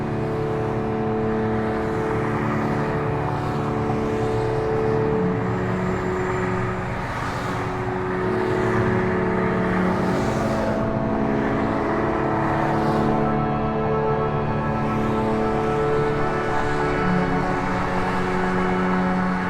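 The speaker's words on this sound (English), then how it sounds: "The constant dirge in the background of the cars swimming on the freeway" Cars stream along a Detroit freeway, a continuous broadband rumble and whoosh of traffic with individual vehicles swelling past now and then, heard from a moderate distance without any talk.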